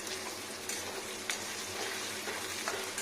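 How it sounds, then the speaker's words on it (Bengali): Chicken frying in a pan for a home-style curry, a soft, steady sizzle over a low background hum, with a few faint utensil clicks and no speech. "এখানে চিকেনটা বানছে।"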